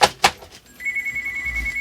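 A telephone rings amid workshop sounds while an Akai AP-Q50 turntable is being repaired: two sharp knocks first, then a sustained electronic tone holding steady for about a second, fairly quiet.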